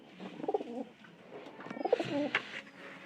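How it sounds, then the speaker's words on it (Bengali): Several pigeons coo in soft, repeated throaty bursts during a summer bath with water, fairly close, some calls overlapping, with no voices. "দেখেন এখন কতগুলা কবুতর আসছে।"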